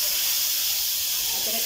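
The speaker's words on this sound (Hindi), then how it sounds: "अब हम इसमें डालेंगे लहसुन का पेस्ट" Garlic paste hitting hot oil in a pan for chicken Russian cutlets, a loud, continuous bright hiss and sizzle heard up close and alone.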